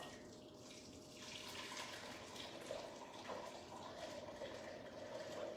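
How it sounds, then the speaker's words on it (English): Curdled milk for homemade mozzarella is poured into a non-conductive bowl, a continuous faint liquid splashing and trickling sound lasting several seconds with small surges, no talk over it. "I'm gonna pour that into the non-conductive bowl"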